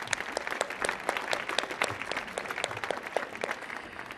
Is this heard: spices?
no